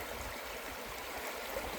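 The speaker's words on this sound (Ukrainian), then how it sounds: "Це знову боброва гребля і вода ось поверх тече." River water on the Romen flows over a beaver dam in a constant hissing rush with a soft gurgle, close by and steady, with no voices.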